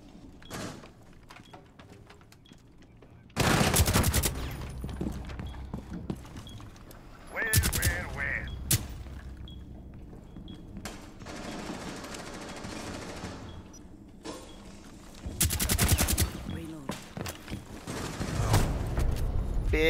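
Bursts of automatic gunfire in the tactical shooter game Rainbow Six Siege, loud volleys around 3.5, 7.5 and 15.5 seconds separated by quieter in-game clatter and rumble, with players talking over it.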